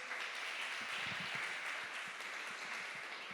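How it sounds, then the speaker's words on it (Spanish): A church congregation applauds during a sermon, a sustained, fairly faint wash of many hands clapping that continues evenly with no voices over it. "¿Puede darle un aplauso al Señor por eso?"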